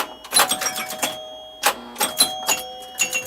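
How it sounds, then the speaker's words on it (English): Electronic bells ring on a Jungle Queen pinball machine, several sharp chiming hits in quick bursts with a pause between groups, loud and close. "I love the sounds of this machine. Just the 5 bells in a row."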